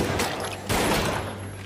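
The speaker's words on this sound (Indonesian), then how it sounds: "Hingga akhirnya Jeremy pun melepaskan beberapa tembakan kepada Terry" Two heavy gunshot bursts from a pistol in a film in quick succession, each followed by a booming, echoing rumble.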